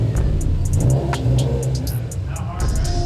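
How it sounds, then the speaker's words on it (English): A Subaru WRX STI engine rumbles loudly and steadily up close as the car creeps forward a couple of feet, with faint chirping ticks overhead. "Top is moving his car over another 2 feet because the sunlight keeps moving this way"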